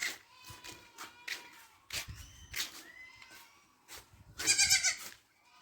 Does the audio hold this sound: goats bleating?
yes